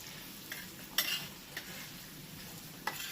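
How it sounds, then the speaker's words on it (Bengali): Tomato and onion fry in hilsa fish oil in a pan, giving a steady soft sizzle broken by a few sharper scraping stirs, with no talk. "এবার মাছের তেলটা, টমেটোটা আর পেঁয়াজ সব একসাথে ভালো করে ভেজে নেব।"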